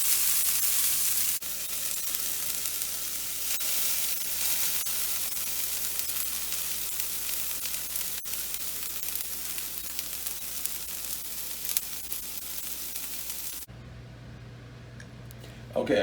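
Vegetables for cornbread dressing soften in a hot pan with a constant broad sizzle and hiss that carries on for many seconds before dropping to a softer hum near the end.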